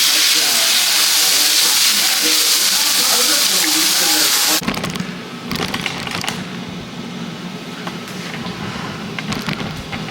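Carne asada sizzles in a hot cast iron skillet with a loud, close, continuous hiss that cuts off abruptly halfway, followed by scraping and clattering of utensils and pan.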